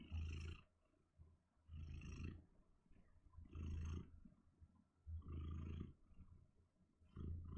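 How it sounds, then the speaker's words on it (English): Female cat purring close up, a low rumbling purr in rhythmic bursts of roughly a second each, rising and falling with her breathing, five cycles in a row with quiet gaps between. "You guys might be able to hear her purring."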